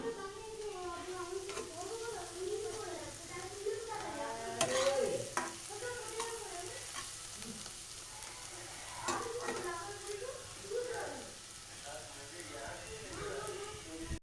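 Chow mein stir-fried in a pan makes a continuous crackling sizzle, with occasional louder tossing and scraping bursts, while voices talk over it throughout.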